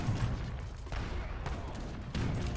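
Cannons fire in a large battle in the real-time strategy game Age of Empires III, a dense, continuous roar of overlapping booms and blasts with several louder bursts, heard without talk.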